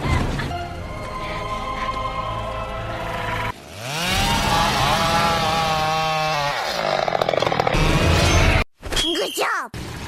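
A chainsaw revs loudly and whines as its pitch rises and falls, cutting under a muffled voice, ending in abrupt bursts and a sharp cutoff.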